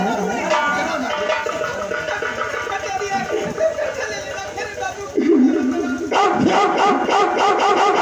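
A voice imitates a dog barking, with repeated yapping, bark-like calls over a noisy live comedy stage performance, accompanied by background music and crowd chatter.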